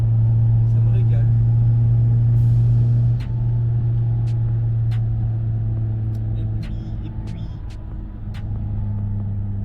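A Renault Mégane 1 car on the road, its engine a steady, close low drone with a slight shift in pitch partway through, and faint light clicks above it.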